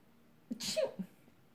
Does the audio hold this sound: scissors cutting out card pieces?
no